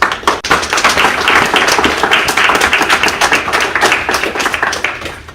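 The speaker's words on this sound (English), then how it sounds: "Can we give them one round of applause, please?" Loud, close applause from an audience at a grand opening, many hands clapping in a dense, slightly uneven rhythm with individual sharp claps standing out, continuing steadily for over five seconds.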